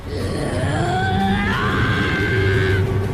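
A cartoon character screams in rage, a loud sustained strained cry that rises in pitch and holds steady for about three seconds over a dense, noisy background.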